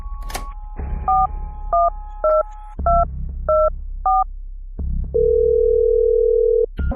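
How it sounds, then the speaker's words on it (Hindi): A series of telephone keypad tones beeps out in an uneven rhythm over a low hum, followed by a steady dial tone, from a store telephone in a cartoon. "फिर गुल्ली स्टोर के टेलीफोन के पास में आकर गुल्ली को फोन करता है।"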